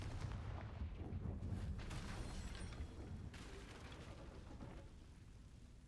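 Spell explosion in the Hogwarts Legacy video game, a loud, sustained burst of rumbling blast noise with crackling debris that holds for several seconds and slowly tapers off.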